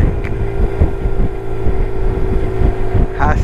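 A BMW R1150RT motorcycle heard from the rider's seat while cruising, a steady loud engine thrum with rhythmic pulsing and heavy wind rush over the microphone.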